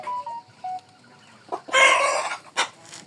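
Hens cluck and chatter nearby, with a few short calls early, then a louder burst of squawking clucks and a couple of sharp cries.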